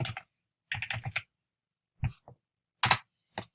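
Computer keyboard typing a name into a Python program: short clusters of crisp keystrokes separated by pauses, close and fairly quiet, with no talk.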